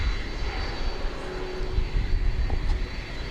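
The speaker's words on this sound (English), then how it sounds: "I hear the engines being fired up." Aircraft engines spool up at Dallas/Fort Worth (DFW) Airport, where UPS MD-11 freighters are operating at night, producing a steady broadband roar with a faint high whine that holds through the clip and has no talk over it.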